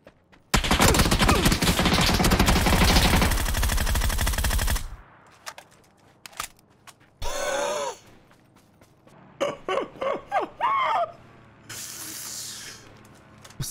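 Gunfire in the shooter game PUBG: a long sustained burst of automatic fire, then shorter separate bursts and single shots, loud and close.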